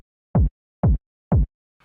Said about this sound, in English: And this kick in general is like a pretty fat kick.